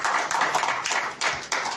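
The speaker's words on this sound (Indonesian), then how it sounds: "Beri tepuk tangan yang meriah buat Tuhan." A church congregation at a Sunday service clapping together, a dense, steady wash of many hands with small surges, fairly close and loud with no voices over it.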